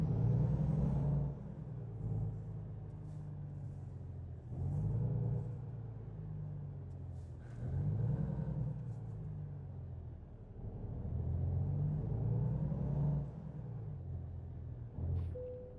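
A truck in American Truck Simulator pulling around to a fuel stop gives a steady low diesel rumble. The engine rises and falls in repeated swells as it shifts gears, loud and alone, with no talking.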